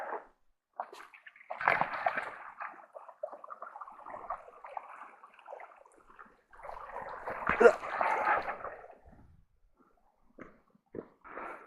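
A hiker wades through a creek crossing on a trail in the Owyhees, with intermittent close splashes and sloshing water in bursts, separated by quieter pauses.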